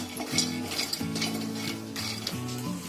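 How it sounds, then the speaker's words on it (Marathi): Makhana (fox nuts) dry-roasting in a kadhai with no oil, light rattling and stirring scrapes of a utensil against the metal pan over a steady faint sizzle, close and continuous, with a tonal hum running underneath. "आता इथे मी बघा मखाने भाजायला ठेवले, म्हणजे चांगले फ्राय करून थोडे घ्यायचे बिना तेलाचे"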